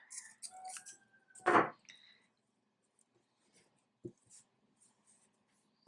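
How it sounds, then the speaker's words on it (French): Scissors snip a crochet yarn thread after a final chain stitch, a single crisp cut close by with a few faint rustles and handling clicks around it, no voices. "Je termine une maille en l'air et je viens, je coupe le fil."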